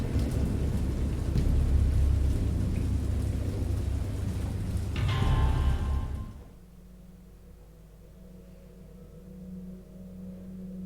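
Heavy rain pours with a deep rumbling roar for about six seconds, then drops off to a quiet low hum.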